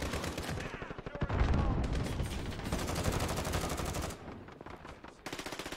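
Rapid automatic gunfire from a first-person shooter on PC, loud dense bursts of machine-gun shots with brief pauses between volleys.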